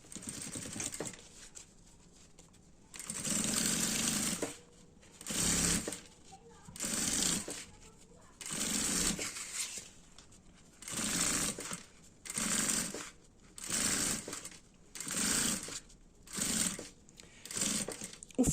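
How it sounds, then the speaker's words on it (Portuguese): Sewing machine stitching lining fabric for a multipurpose vanity case, about ten short bursts of rapid mechanical whirring separated by brief pauses, close and clear, with quiet moments between runs. "você não puxa ele, você só assenta ele e vai costurando"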